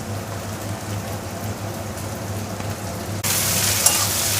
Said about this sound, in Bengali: একসাথে এবার ভেজে নেব।